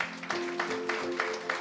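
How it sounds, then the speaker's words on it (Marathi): Rhythmic clapping from a church congregation during a Sunday sermon, steady evenly spaced claps about three per second over a sustained musical tone. "पृथ्वीसाठी जरा टाळ्या वाजूयात."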